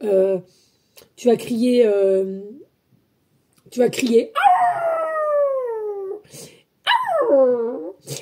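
A person imitates a wolf howl up close: several loud, drawn-out vocal howls that rise and fall in pitch, separated by short pauses.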